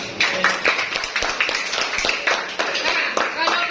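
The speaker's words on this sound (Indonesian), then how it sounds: "Oke, tepuk tangan dulu." A math class claps hands together, quick rhythmic bursts of many hands in a repeating patterned beat, close and lively, with some voices calling along underneath.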